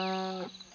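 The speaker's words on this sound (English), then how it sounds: "Hello, Mr. Cow." A cow lows once in Lords and Villeins, a medieval colony management game: a single loud, close moo with a falling end that trails off into near silence.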